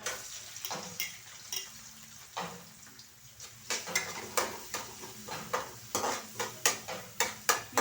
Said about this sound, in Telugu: ఆనియన్స్ కూడా వేస్తున్నా ఫ్రై అయిపోయినాయి